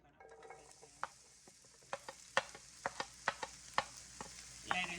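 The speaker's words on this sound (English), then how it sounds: "Let it saute for a little bit, maybe about 5 minutes" Vegetables sauteing in about three tablespoons of olive oil, a steady frying hiss broken by repeated sharp clacks of a utensil stirring against the pan, close and moderately loud with no talking.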